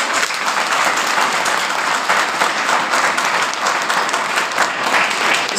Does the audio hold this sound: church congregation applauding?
yes